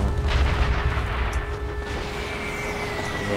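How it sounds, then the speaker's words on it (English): Cannon fire in the World War II shooter Sniper Elite V2 rumbles as a low, sustained boom with dense battlefield noise, fairly loud and continuous, with no talking over it. "Got a bit of cannon"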